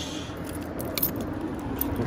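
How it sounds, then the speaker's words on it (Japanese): Keys jangle and rattle in a door lock outside a house, a few brief metallic clinks over faint background hum. "鍵を閉めて"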